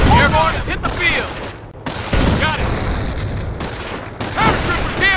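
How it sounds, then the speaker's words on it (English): German artillery and gunfire in the Company of Heroes video game, with repeated booms and bursts of rifle and machine-gun fire, loud and continuous, with shouted voices mixed in. "Germans are pounding our base."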